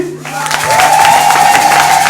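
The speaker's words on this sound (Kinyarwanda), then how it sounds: "Ariko mwanyemerera tugakoma amashyi" Clapping from a church congregation rises after a brief quiet start and holds as a steady, dense patter, with a sustained tone ringing faintly through it.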